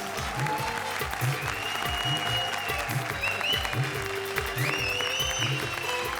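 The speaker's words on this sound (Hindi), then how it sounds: "जोरदार तालियां कृष्णा और सुदेश के लिए।" A comedy show audience applauds Krishna and Sudesh, with steady clapping throughout over a rhythmic music track and rising synth tones.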